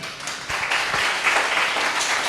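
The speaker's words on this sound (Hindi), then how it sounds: "आप ताली बजाए, बहुत अच्छा लगा" Audience applause at a Christian gathering, a steady wash of many hands clapping together for about two seconds, moderately loud and continuous with no talking over it.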